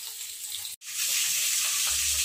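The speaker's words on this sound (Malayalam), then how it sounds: "മീൻ നമുക്ക് ലോ ഫ്ലെയിമിലിട്ടൊന്ന് വേവിച്ചെടുക്കാം" Fish frying in oil in a pan over a low flame, a steady bright sizzle that breaks off for a split second and then resumes, close and continuous with no talking.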